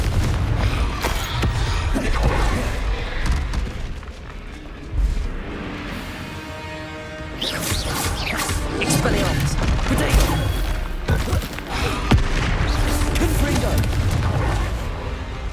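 Confringo spell blasts in Hogwarts Legacy combat explode repeatedly, loud crashing booms and impacts mixed with other spell effects, shouted incantations and battle noise throughout.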